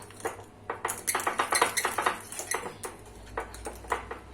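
A utensil clinks and scrapes rapidly around a bowl while flour is mixed into a banana fritter batter, giving a busy, uneven run of close clatters.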